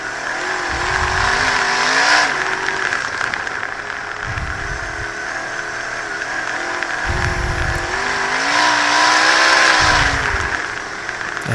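Roughly 600-horsepower race cars charge down a straightaway, engines rising and falling in pitch as several cars roar past in waves, loud and close, with no talk.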